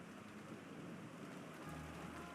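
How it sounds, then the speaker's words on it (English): Rain sound effect from the visual novel Umineko no Naku Koro ni: steady, dense rainfall hissing evenly throughout with a low rumbling undertone like distant thunder, faint and continuous with no voices. "We can't do anything except pass the time listening to the sound of the rain until tomorrow morning."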